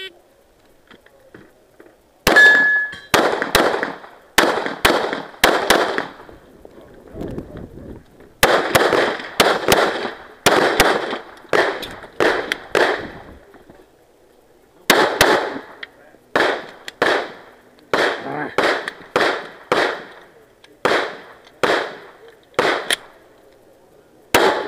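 Pistol gunfire at a USPSA practical shooting match, outdoors in Ruskin, Florida: loud, sharp shots in quick strings of several, with short gaps between strings and faint background noise between volleys.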